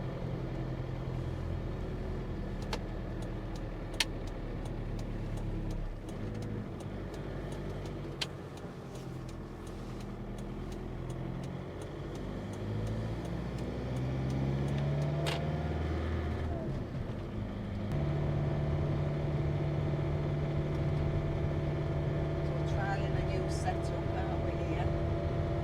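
Steady road and engine drone inside a motorhome cabin while driving toward Geraldton, a continuous low rumble with a slight shift in pitch midway and no talk.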